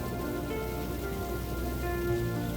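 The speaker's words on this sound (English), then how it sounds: "Some areas will get a downpour" Rain from an afternoon thunderstorm pours over the Australian countryside in the wet season, a dense, even wash of sound that holds steady throughout, with a low tonal hum running underneath.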